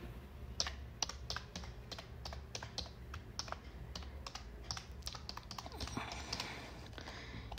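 An email address is typed on a computer keyboard in quick, uneven runs of light close clicks and taps, with short pauses between bursts against a quiet room hum.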